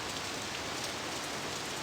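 Rain sound effect made for a movie, a dense, loud, constant hiss of falling drops spattering on surfaces, filling the whole moment with no voices.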